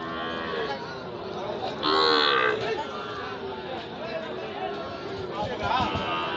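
A small Sahiwal bull at a busy cattle market lets out a loud, close moo lasting about half a second, with people chattering around it before and after.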